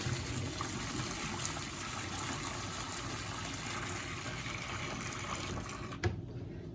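Hot water poured from a pot of cooked noodles into a kitchen sink makes a continuous splashing trickle, ending with a brief clunk as the pouring stops.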